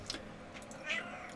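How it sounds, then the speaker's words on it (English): Cat meowing indoors, faint and somewhat distant, with a couple of soft cries over a low room hiss and no clear speech. "sorry if my cat gets super annoying"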